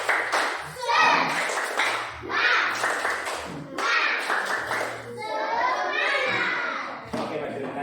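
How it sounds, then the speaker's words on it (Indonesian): Schoolchildren in a classroom perform a rhythmic 'tepuk semangat' spirit clap, bursts of clapping alternating with loud group chanting and kids' voices over several beats. "Tepuk semangat."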